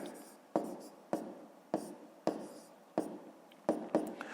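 Pen strokes on paper while writing fractions and numbers by hand for a fifth-grade maths exercise: about eight short scratchy strokes in an uneven rhythm, close and fairly quiet, with no talking.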